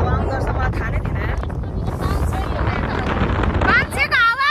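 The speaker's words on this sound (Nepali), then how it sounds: "यस्तो भिडियो हावा आउँदो रहेछ मलाई थाहा नै थिएन" Strong wind gusts buffeting a swaying sky bridge, roaring and rushing close against the microphone, with people talking and exclaiming over the wind.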